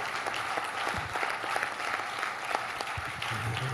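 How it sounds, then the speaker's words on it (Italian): An audience at an amateur theatre performance claps for a cast member, brisk continuous applause with a few sharper individual claps standing out, with no talking over it. "Volevo fare un applauso a Maria, perché Maria è stata grande."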